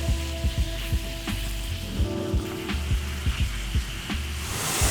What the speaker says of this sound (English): Now just spread that pork out and stir fry it until it's almost cooked.